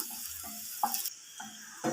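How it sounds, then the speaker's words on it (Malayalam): Shallots and dried red chilies fry in oil for a Kerala banana stem curry, giving a steady soft sizzle and hiss broken by a few brief clinks and stirring sounds. "വറുത്തിടാനുള്ള ഉള്ളിയും മുളകും മൂപ്പിച്ചെടുക്കാം"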